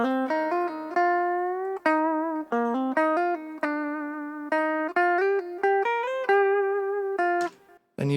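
Clean electric guitar line without insert effects, a run of distinct plucked notes and short phrases with clear attacks, close and steady in level, ending with a brief drop-off.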